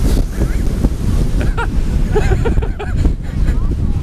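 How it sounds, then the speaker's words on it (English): Heavy wind buffeting the microphone in loud, continuous roaring rumbles on a White Mountains hike, Mt Chocorua, with faint shouting voices breaking through. "So we almost just died by a monster wind gust."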